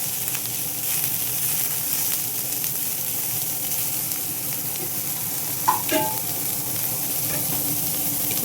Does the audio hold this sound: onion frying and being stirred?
yes